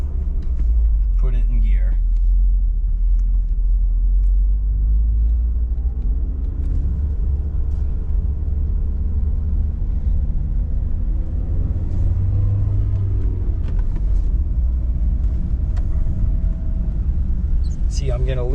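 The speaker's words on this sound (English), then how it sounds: "Foot on the clutch, rev it up," A manual stick-shift car's engine rumbles steadily up close inside the cabin and rises briefly in pitch as it is revved during a downshift, while a voice speaks over it.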